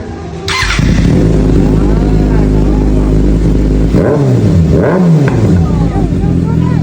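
A loud motorcycle engine idles roughly and then revs up and down a couple of times, close by, with voices faintly underneath.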